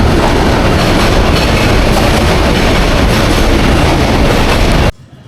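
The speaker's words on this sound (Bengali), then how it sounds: "জায়গায় বসে আসছে ট্রেন যাচ্ছে" A train rushes past at close range, a loud continuous roar with rattling wheel clatter that cuts off abruptly near the end.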